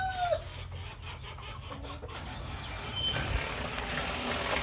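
A three-month-old Rhode Island Red hen clucking in a backyard, with short scattered calls over a steady hum of outdoor background noise.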